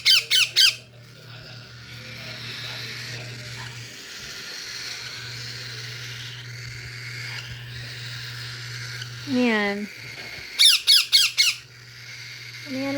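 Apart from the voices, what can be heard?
pet parrots squawking noisily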